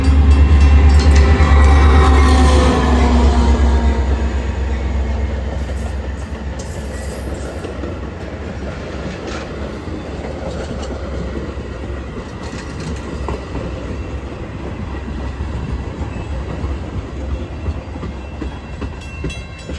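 Outbound Metra commuter train 2233 with MP36-3C diesel locomotive 420 leading rolls through Bartlett, a loud, close engine roar at first that settles into a steady rumble and clatter of passing cars.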